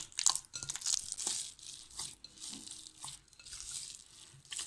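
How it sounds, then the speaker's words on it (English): Lentil puran poli dough being kneaded by hand with cooking oil, producing close, soft squelching and slapping sounds in an uneven rhythm with faint sticky crackles. "Keep kneading at least for 15 to 20 minutes."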